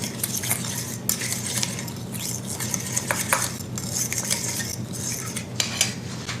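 A spoon clinks and scrapes against a bowl while powdered onion and thyme are mixed in, a steady run of close stirring with sharp metallic taps.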